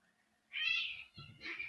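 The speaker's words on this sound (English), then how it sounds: "I think the cats are fighting." Cats fighting at night let out two drawn-out, wavering yowls, the first long and loud, the second shorter after a brief pause, heard at moderate distance with no talking.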